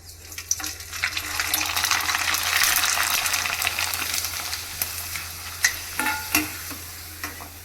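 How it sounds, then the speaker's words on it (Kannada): Rice papad hiss and sizzle in hot oil, a broad, steady bubbling fry that swells and then eases, with a few soft clinks and stirs near the end and no talking. "ಇವಾಗ ಎಣ್ಣೆ ಕಾದಿದೆ, ಹಪ್ಪಳ ಹಾಕ್ತಾ ಇದ್ದೀನಿ"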